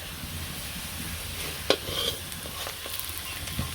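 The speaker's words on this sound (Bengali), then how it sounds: "এই যে আলুগুলো লাল লাল করে ভাজা হয়ে গেছে" Potatoes frying in oil in a village kitchen, a steady close sizzle with a few sharp stirring scrapes and clinks of a utensil against the pan, no talking.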